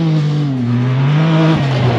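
A Dakar 2023 rally car in the Saudi desert roars past close by, its loud engine tone sweeping steadily downward in pitch, filling the whole moment with no talk.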